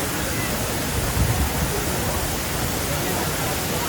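The Five Falls waterfall roars as a steady, loud broadband rush of falling water, filling the whole scene without a break.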